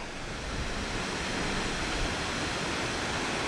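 Shatodi Waterfalls near Dandeli pour in a steady, dense rush of water with a low rumble, continuous and fairly loud throughout with no talking.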